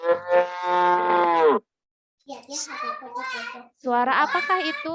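A cow moos in a long, loud, steady call from a played recording, followed by a voice asking a question.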